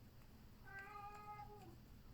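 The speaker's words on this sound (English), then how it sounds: "Yes, very whiny mewing." An indoor cat lets out a single whiny, drawn-out meow, thin and faint over a low household hum, lasting about a second.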